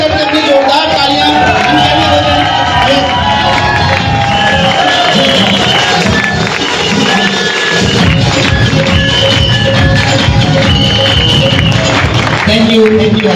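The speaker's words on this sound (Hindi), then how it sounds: "एक बार खड़े होकर अपनी जोरदार तालियां" Audience at an IMC direct selling business seminar rising for a standing ovation, dense loud applause and cheering with whoops filling the hall steadily throughout, crowd noise sustained without pause.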